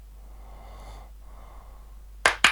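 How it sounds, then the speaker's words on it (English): A man dozing during a podcast breathes with soft, rasping inhales, then lets out two sharp, loud snorts close to the microphone. "It sounds like he's snoring."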